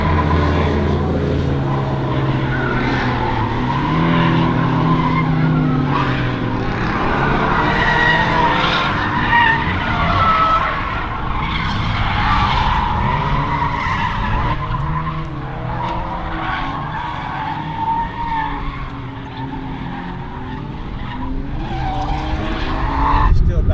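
Car tires skid and squeal on a skid pad as test cars with angle kits (Camaro, BMW 128i, CTS-V) drift, with a droning engine and tire noise running continuously under people talking.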